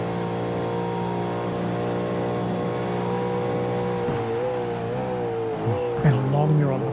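Race car engines in the iRacing sim at the Mexico circuit, a steady sustained drone held at full throttle along a straight, pitch rising and wavering near the end, under faint background commentary.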